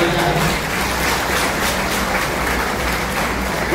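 Steady, dense applause from a crowd in Chiplun welcomes a newly appointed police superintendent, continuous clapping without a break.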